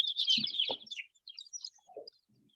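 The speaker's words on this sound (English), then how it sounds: "Some of the meat bird chicks have flown over" Small farm chicks, meat birds and laying breeds including a Polish, chirp in high, bright bursts near the mic, with a few softer low clucks mixed in, then thinning to scattered faint peeps.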